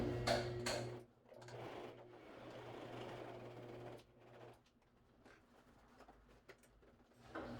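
A sewing machine stitches a quarter-inch seam on fabric for a home-built craps table, running in a steady burst for about four seconds before fading into quieter handling noise.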